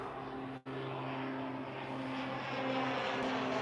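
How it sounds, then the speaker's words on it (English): A departing airplane's engine drones steadily with a tonal hum, loud and continuous, swelling slightly as the aircraft climbs away after takeoff. "Wow, that plane just took off"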